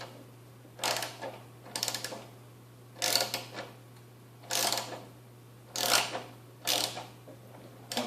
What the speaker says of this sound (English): I have an 11 millimeter socket, and that's the size for this to take it off